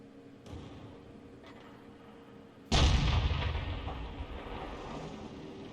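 A single tank cannon shot in a tank combat game: after a faint low hum and a couple of soft clicks, one sudden loud boom cracks out, then rolls into a long, fading rumble.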